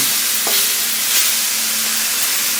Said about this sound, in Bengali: মাছগুলো আমি একটু মশলার মধ্যে দিয়ে আস্তে আস্তে করে একটু ভেজে নেব না